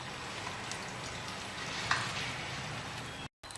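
Chicken pieces sizzling in cooked masala for palak chicken curry, a steady, dense frying hiss at close range with a faint stir partway through, cutting off abruptly near the end.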